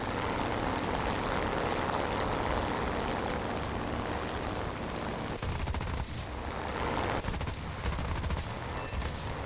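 Rapid bursts of aircraft cannon fire in a World War II combat flight game hammer away almost continuously over a dense engine roar, with short breaks and renewed volleys.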